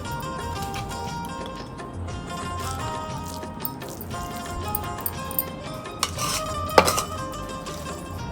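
Hot biryani is served onto plates in a home kitchen, with soft scraping and scattered metal utensil clinks over a low background, then a few sharper knocks toward the end.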